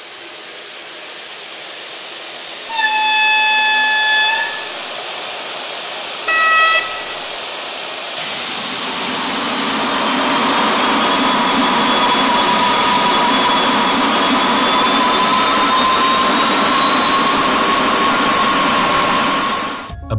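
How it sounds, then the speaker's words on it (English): Whining gas turbine sound from a Fleischmann model train multiple unit, a loud steady high-pitched whine that starts with rising tonal beeps and then swells into a sustained roaring hum with a shifting pitch. "The Fleischmann model is now to be produced with the characteristic sound of the gas turbines in both traction motors"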